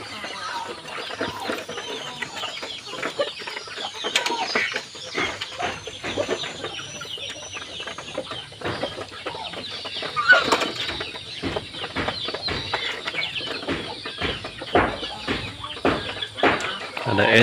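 Bangkok fighting-breed chickens on a dry garden farm plot cluck and stir continuously, with scattered scratching and flapping sounds close by throughout.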